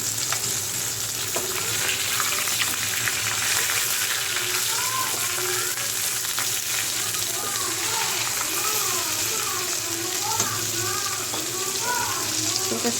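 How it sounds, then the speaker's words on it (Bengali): Rohu fish pieces fry in hot oil in a home kitchen pan. A loud, steady sizzle holds up close throughout, with faint voices murmuring in the background. "এখানে মাছ ভাজছি রুই মাছ"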